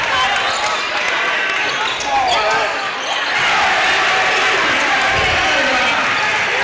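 Excited crowd in the gym at a boys varsity basketball game, Maquoketa Cardinals at Mount Vernon Mustangs, just after a dunk: a loud, steady roar of cheering and chatter fills the whole stretch, with a ball bouncing on the court.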